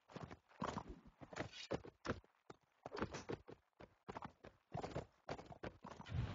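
Horse hooves clip-clop in a strategy video game, a quick irregular run of clattering steps with occasional thuds, close and fairly clear, with no talk over them.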